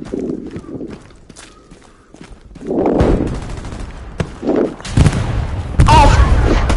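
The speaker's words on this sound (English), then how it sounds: "Wait, where is this guy shooting from?" Gunfire crackles in Hell Let Loose, coming in bursts of shots mixed with footsteps and rustling during an infantry push toward a point with a tank nearby, loud and close toward the end.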